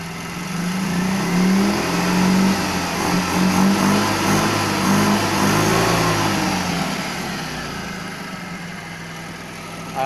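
Car engine on a water-fuel setup idling steadily nearby with a low rumbling hum and slight rises in revs, running alone without talk.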